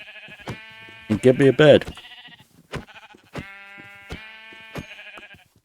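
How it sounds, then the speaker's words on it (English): Sheep bleating in Minecraft, a short cluster of game bleats followed by several sharp clicky hits, with a person talking over the gameplay. "First, take out these sheep"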